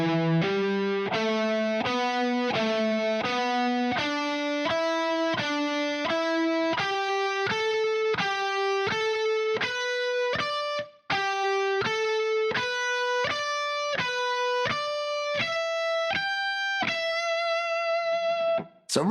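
Distorted electric guitar playing a metal alternate-picking sequence, a steady run of evenly spaced picked notes climbing slowly up the neck, loud and alone with a brief gap partway through.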